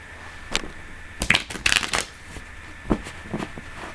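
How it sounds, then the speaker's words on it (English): Tarot cards are shuffled and riffled nearby in quick, papery bursts with brief pauses between, over a faint steady hum. "So I'm gonna go ahead and shuffle the cards now."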